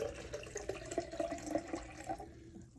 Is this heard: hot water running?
yes